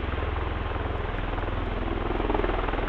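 CV-22 Osprey tilt-rotor military aircraft, a loud, steady rhythmic rotor thump with a low heavy drone, continuous and close throughout.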